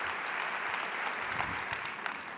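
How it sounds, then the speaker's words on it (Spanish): An audience at a talk applauds steadily for the speaker, a continuous wash of many hands clapping at moderate volume with no talking over it. "Un fuerte aplauso para él."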